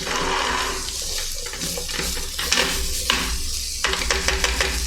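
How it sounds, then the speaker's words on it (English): Food sizzling in a pan during omurice cooking, a steady frying hiss running throughout with occasional sharper crackles and stirring clinks, close and fairly loud, no talk. "Now it's sizzling."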